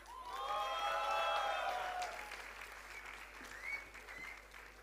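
Audience applause at a college convocation for a BBA ranker, a dense burst of clapping that swells early and gradually thins, with a few cheers or whoops rising near the end.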